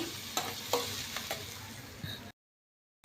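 Tomato puree masala being stirred in a hot pan, a soft sizzle under several spoon scrapes and taps, fairly quiet and close, cutting to silence near the end before a brief return.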